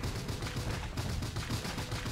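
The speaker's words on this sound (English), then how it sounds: "Firework launchers!" Firework launchers fire in the Bioshock Infinite video game, producing a loud, dense and continuous barrage of rapid crackling bursts with no gaps for the whole stretch.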